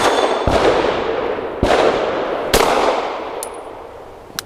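Arex Delta X pistol rounds fired outdoors, three sharp loud reports spaced about a second apart with long echoing decay, plus faint distant pops from other shooters in the background.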